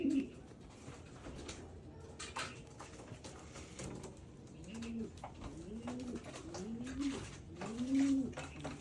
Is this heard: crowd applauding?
no